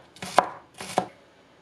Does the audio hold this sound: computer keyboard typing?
no